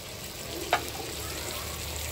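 A paste of turmeric, coriander and cumin sizzles in hot oil in a pan for Ganges bambus fish, a steady close frying hiss broken by one sharp clink of a utensil.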